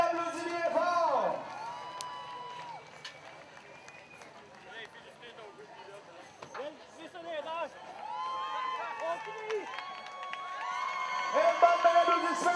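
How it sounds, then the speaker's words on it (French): Crowd at a blind and visually impaired surplus-vehicle extreme race cheering and whooping for the winner, with scattered clapping and shouts rising toward the end, a voice speaking over it at times. "Le pilote vainqueur, Alan Walker, mesdames et messieurs, on l'applaudit bien fort!"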